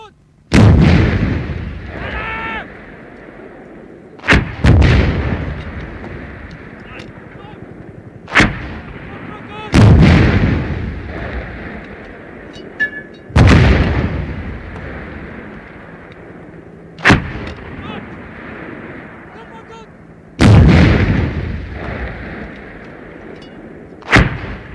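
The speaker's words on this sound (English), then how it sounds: "This was rapidly followed by several HE-441B rounds" A Bofors gun fires HE-441B rounds at a 1992 demonstration: six heavy, booming shots spaced a few seconds apart, each with a sharp crack followed by a long rolling echo that fades before the next.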